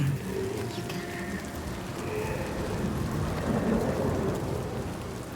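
Thunderstorm in the video game Hellblade II: steady heavy rain with low rolling thunder rumbling continuously throughout, loud and enveloping, no voices.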